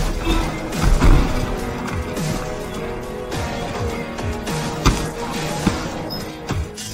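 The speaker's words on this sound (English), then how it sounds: "the two started to fight again, rolling down the steps from the top to the bottom" A movie fight scene in which two men grapple and tumble down a flight of steps from top to bottom, producing a dense, busy run of crashing, whacking impacts and thuds with sharp hits standing out near the end.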